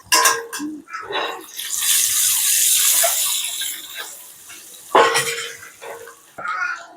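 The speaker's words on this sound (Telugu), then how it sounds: "మనం కట్ చేసి పెట్టుకున్న ఎగ్స్ని అయితే వేసేసుకుందాం. దీన్ని ఇలా లైట్గా ఫ్రై చేసుకోండి" Halved boiled eggs fry lightly in a pan of oil with turmeric, giving a loud, hissing sizzle that swells and fades with a few clinks of utensils. No one speaks.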